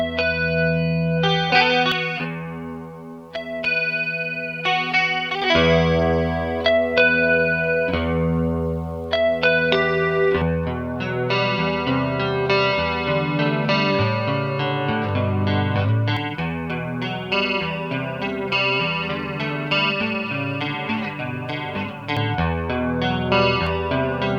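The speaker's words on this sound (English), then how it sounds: "we'll be using the Super Chorus from Boss and the digital stereo model from the" Electric guitar through chorus effects, a Boss Super Chorus pedal compared with an AX8 digital stereo chorus model, playing shimmering chords and single notes with a wavering, doubled modulation, loud and clear with no talking.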